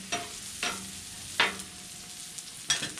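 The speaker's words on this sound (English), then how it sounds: "I'm going to slide these jalapenos over to the middle and let them continue to cook a little bit right here" Jalapenos cook in a pan under a soft, steady sizzle, while four sharp scraping pushes of a utensil slide them across the surface at irregular intervals.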